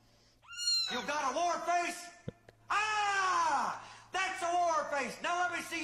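Cat giving several long, drawn-out, wailing meows at close range, separated by short pauses, with a brief click between calls.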